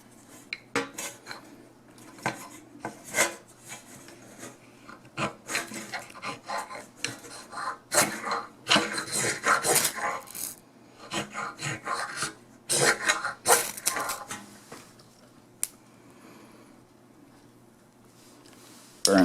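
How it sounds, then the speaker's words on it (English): Vermont fatwood from Cabot is scraped into shavings, producing irregular bursts of dry rasping and scratching strokes, close and fairly quiet, with short pauses between runs. "this is Fatwood shavings from Cabot Bluegill,"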